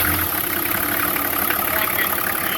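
A Toyota 60 series with a 2H diesel engine runs steadily just after its first start-up following oil top-up, a constant, fairly loud idle with a broad, even rumble and no voices.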